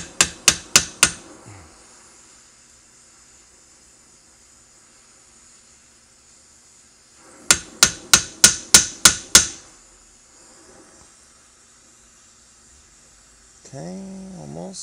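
Sharp metallic hammer strikes driving a rivet into a Browning 1919 machine gun side plate, a quick burst of four blows, then a pause and a faster run of about eight ringing hits, close and loud.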